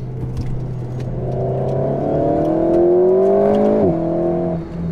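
Alpine sports car engine pulling hard through a rising rev sweep, one continuous near and loud run with a gear-change dip near the end, no talk.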